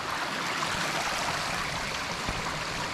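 Runoff water streams steadily along an Appalachian Trail hiking path, a constant close rushing wash with no breaks.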